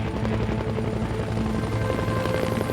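A Bell UH-1 Huey turbine helicopter from the Vietnam War era runs loud and close, its rotor thumping in a steady, rapid rhythm over a continuous engine drone.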